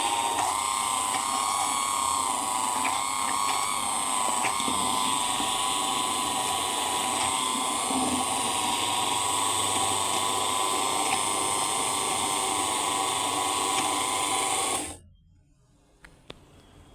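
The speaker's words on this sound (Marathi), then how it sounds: "आता हे सगळं मी हँड मिक्सीने ढवळून घेते." Electric hand mixer whirring steadily through a caramel pudding mixture in a container, a loud continuous mechanical drone with slight wavering that stops abruptly near the end, leaving near silence.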